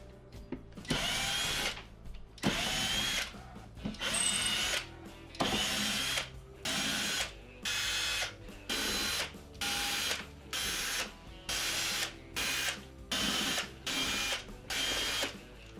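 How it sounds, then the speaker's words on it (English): Power driver backing out the Torx screws that hold the control and front panels on a Whirlpool dishwasher, whirring in a steady run of short repeated bursts with brief gaps between screws, close and loud. "remove the 14 torx bit screws holding the control panel and the front panel onto the unit"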